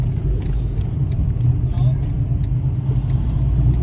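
A steady low rumble fills the cabin of a moving car on a ride to a nail appointment, loud and continuous throughout.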